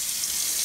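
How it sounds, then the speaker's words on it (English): Hot water poured into a pot of beef chunks, a brief close hiss of splashing liquid, steady and fairly loud with no talking. "I'm gonna add just a little bit of water"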